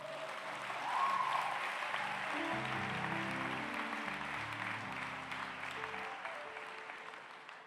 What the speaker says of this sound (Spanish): Den un aplauso a mi Jesús.